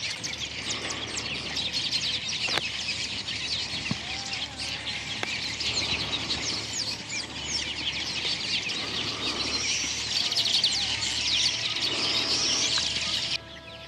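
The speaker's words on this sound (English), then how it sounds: "the bird life in the garden is not too shabby either" Chickens cluck and other birds chirp in the garden of an open-air bronze sculpture gallery in Rwanda, steady and mid-distance under a constant bed of insect-like hiss.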